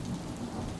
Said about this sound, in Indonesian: Hanya suara hujan yang mengetuk helmnya seperti jari-jari kecil yang tak sabar.